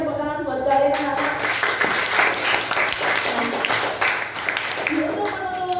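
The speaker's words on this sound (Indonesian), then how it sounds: "Tepuk tangan buat kalian anak" A school classroom of students bursts into lively clapping for their classmates after a science practical, many hands close by beating fast and loud throughout, with voices and cheering mixed in over the claps.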